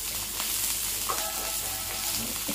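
Tamarind and ginger sauté in a pan over the stove, with a steady soft sizzle and occasional stirring sounds.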